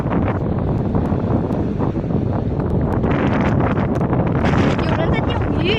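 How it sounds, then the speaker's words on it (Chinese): A strong seaside wind roars constantly into the microphone, loud and unbroken, and voices can be heard under the gusting noise. "哇，好大的风！"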